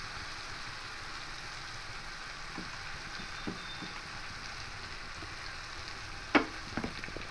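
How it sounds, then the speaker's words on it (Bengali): Ghugni masala with tomato paste sizzling in a pan, a soft steady fry hiss with occasional stirring scrapes and a sharp clink of a spatula near the end. "এবার খুব ভালো করে কষিয়ে নেব"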